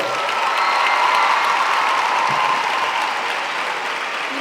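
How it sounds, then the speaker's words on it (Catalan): A large crowd at the Fonteta gala selecting Valencia's 2025 falleras mayores breaks into sustained applause, a dense, even roar of clapping with some cheering that fills the hall steadily from start to finish. "un fort aplaudiment per a totes elles"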